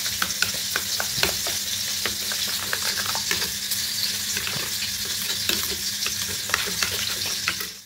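Shrimp fries in hot oil with a steady close-up sizzle, dotted with sharp pops and stirring clicks throughout.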